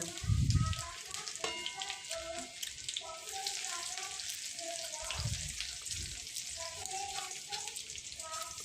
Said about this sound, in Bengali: ক্যাপসিকাম রসুন কুচি আদা কুচি আর কাঁচা লঙ্কা কুচি ওই তেলেই দিয়ে দেব